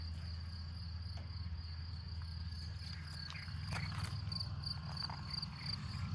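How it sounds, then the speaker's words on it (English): Crickets chirp steadily on a hot 28°C day at a farm in Portugal, a continuous high-pitched trill, loud and close, over a low background hum, with faint clicks. "With the crickets."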